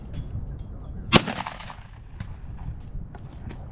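A Mossberg 88 pump shotgun fires a single sharp, loud blast at a clay target outdoors, with a rolling echo trailing off afterward and faint outdoor ambience around it.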